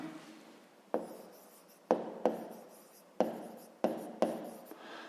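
Pen writing by hand on paper while working a grade 5 math exercise, six distinct short scratching strokes, each starting sharply and trailing off, close and quiet with no talk.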